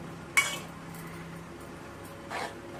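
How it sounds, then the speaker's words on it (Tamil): A spoon stirs powder into a pot of sago murukku batter: a sharp metal clink, a quiet gap, then a softer scraping swirl against the pot, all fairly faint and without talk. "போட்டு நல்லா கிளறி"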